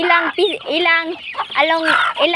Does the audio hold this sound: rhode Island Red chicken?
yes